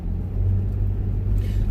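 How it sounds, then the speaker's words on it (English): Road traffic idles and creeps during a Black Friday outing, heard as a close, steady low engine rumble with a slight rise near the end and no talking. "Why is traffic not moving?"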